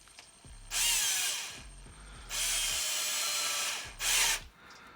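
Three bursts from a power drill tightening parts back onto an Arrma RC car, each a loud whirring spin with a low motor hum starting and stopping, separated by short pauses.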